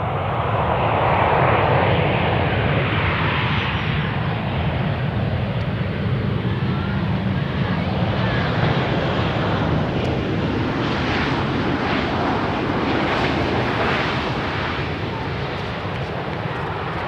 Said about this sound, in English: a 15-year-old Ryanair 737 coming in from Dublin, about to touchdown